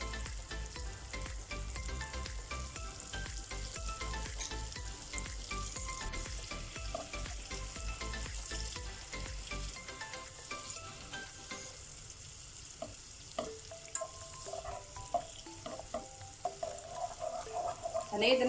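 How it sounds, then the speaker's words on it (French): Butter melts over low heat in a saucepan, giving a soft, steady sizzle that fades as the pan quiets, with light kitchen clatter and brief speech. "on a mis notre casserole à feu doux avec environ 3 cuillères à soupe de beurre."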